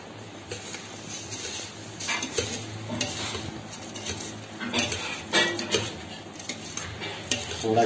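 Bhel ingredients are tossed and mixed in a bowl, a run of dry rustling and crunching with sharp clinks of a spoon against the bowl, uneven in rhythm and close by, with no speech.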